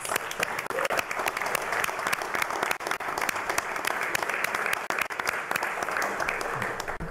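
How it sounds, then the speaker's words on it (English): Audience at a city council meeting in Orlando applauding the city commission, sustained dense clapping from many people that stays even throughout, with sharp individual claps standing out near the microphone. "let's give the commission a round of applause"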